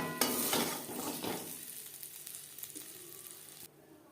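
Paneer frying in oil in a kadai pan, a dense crackling sizzle that is loudest at the start, eases after about a second and a half, then drops off sharply near the end.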